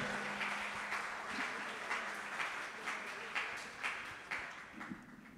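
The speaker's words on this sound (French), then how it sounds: "On applaudit Jeff, on applaudit Fabienne, s'il vous plaît" A studio audience at a televised school quiz final in Haiti applauds steadily, a dense wash of many hands clapping at moderate distance with small swells, and no voice over it.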